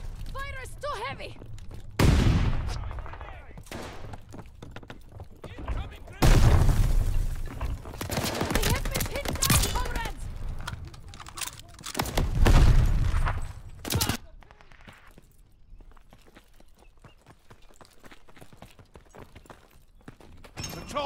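Heavy gunfire rings out in Call of Duty Vanguard, with loud, sharp bursts and sustained volleys arriving in several clusters between quieter stretches, mixed with booms and shattering hits, while voices speak among the shots.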